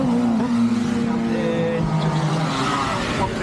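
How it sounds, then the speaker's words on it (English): A motorcycle engine catches after a bump start by marshals at a road race meeting and runs on, revving up and down, with a crowd murmuring in the background. "One machine up, giving himself a bump start. He's away up the road, and it appears the engine is now running"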